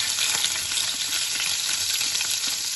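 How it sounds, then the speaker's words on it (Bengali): Chopped garlic sizzles in a hot frying pan after fish, a steady bright hiss of oil crackling close and continuous, with no talk. "এবার ফ্রাইং প্যানে কেটে রাখা রসুন কুচিটা দিয়ে দিচ্ছি।"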